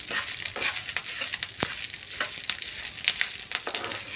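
Dried red chillies frying in a pan for spicy karam podi: a steady, close sizzle with scattered crackles and pops, and no voices.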